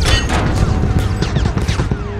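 Gunfire from the film Transformers: Age of Extinction, a loud close fusillade of rapid shots mixed with booms, metallic crashes and ricocheting mechanical clatter, dense and continuous.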